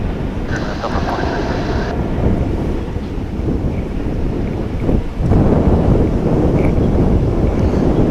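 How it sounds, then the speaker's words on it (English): A UPS Boeing 767 taxis at DFW airport, giving a steady broad jet rumble with wind buffeting the microphone, a brief higher whine early on and a louder gusty surge after the midpoint. "this UPS 767 is just scooting on over"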